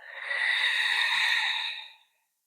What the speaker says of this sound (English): inhale through the nose and exhale through the mouth